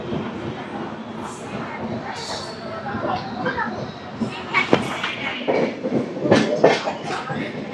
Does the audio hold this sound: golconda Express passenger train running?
yes